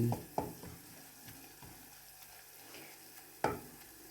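Chopped garlic frying in hot oil in a pan after the heat is switched off, a steady soft sizzle broken by a few sharp stirring clacks of utensil on pan, close and moderately quiet, with no talking.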